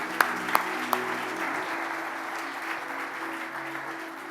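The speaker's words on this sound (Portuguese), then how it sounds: "Uma salva de palmas para vocês" Applause for the fathers at a Father's Day church service, a steady crowd clapping throughout with a few sharper claps near the start.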